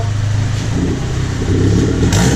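A turbocharged Mazda Miata engine in a kart runs steadily at idle on a dyno with a low, throbbing rumble, loud and close, swelling slightly near the end.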